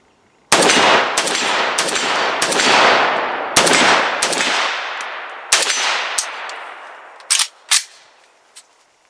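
Rifle fitted with a Primary Arms 2x ACSS prism scope firing a rapid string of about ten loud, sharp shots with ringing decay, close by, slowing into a few spaced final shots.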